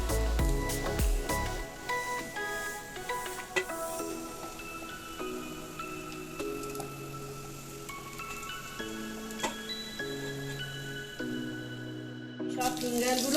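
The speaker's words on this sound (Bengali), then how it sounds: "সব ফিঙ্গারগুলো ভেজে নিচ্ছি।" Potato semolina fingers deep frying in hot oil, a faint continuous sizzle and bubbling with scattered clinks and scrapes of utensils throughout, steady and fairly quiet.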